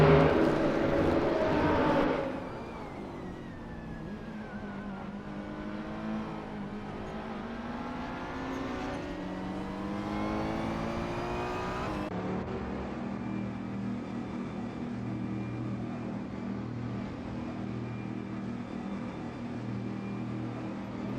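GT3 race cars lap the Maple Valley circuit in a racing video game, their engines droning and whining as they shift through gears, with a loud pass near the start and sustained revving after.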